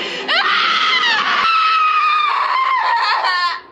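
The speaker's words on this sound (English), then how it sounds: "I think the audience is just going to get so sick of hearing me scream" A woman screams in a horror film scene, set around the Texas chainsaw story: one long, loud, sustained shriek that wavers in pitch, close and unbroken for several seconds.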